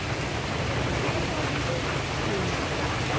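Steady dense hiss of rain falling at Rainforest Pasig, even and continuous throughout with no pauses.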